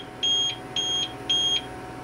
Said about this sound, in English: this is going to be a long wait with that beeping